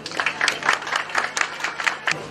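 Guests at a Valentine's Day civil wedding ceremony clap together, a brisk burst of close, crisp hand claps with an uneven rhythm that carries on without pause.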